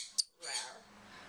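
A sharp squawk from a bird, followed by a raspy, breathy call that trails off, close by in a quiet room.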